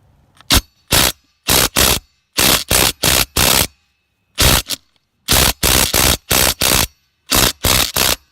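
A Ryobi brushless cordless impact driver hammers on a car lug nut in a series of loud, close rattling bursts, each about half a second, grouped with brief silent pauses between, no voices.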